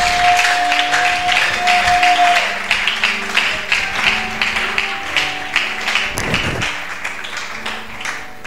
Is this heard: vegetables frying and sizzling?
no